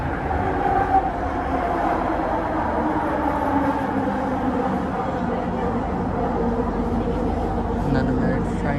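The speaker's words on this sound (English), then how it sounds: "Another married train, another married four coach there with its tail lights on" A married four-coach passenger train with its tail lights on rolls past, a steady low rumble and rail noise held evenly throughout without clear voices.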